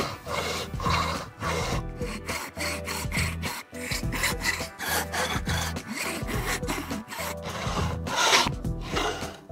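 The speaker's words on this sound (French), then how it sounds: "Alors il y a différentes façons de limer." Hand filing the outer diameter of a handmade ring, made without machines: steady back-and-forth rasping strokes in a continuous rhythm, close and fairly loud, with no talking.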